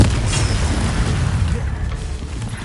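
An Incendio fire spell goes off in the Hogwarts video game, a deep booming blast that rolls on as a dense rumbling roar, loud and close.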